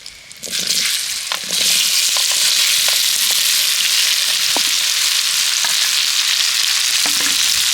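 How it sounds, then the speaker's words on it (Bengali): Peeled amla gooseberries dropped into hot oil with asafoetida, a loud close sizzle that swells after the first second and holds steady, with scattered scrapes and taps of stirring. "আমলকিটা তেলের সাথে এইভাবে একটু মেরে ফেরে ভেজে নেব"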